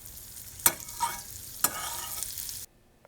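A grilled cheese sandwich fries in butter in a pan, giving a steady broadband sizzle with two sharp clatters as it is placed and moved, then cutting off abruptly near the end.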